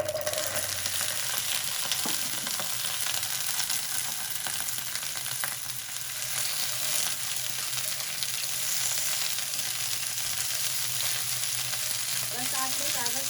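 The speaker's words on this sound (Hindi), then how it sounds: "बस आपने ज़्यादा सब्जियां नहीं फ्राई करनी, थोड़ा सा आपने फ्राई करना है।" Mixed vegetables frying in a little oil for sabzi pulao, a steady broadband sizzle running close and even through the whole stretch, with a few brief stirring clatters near the end and no talking.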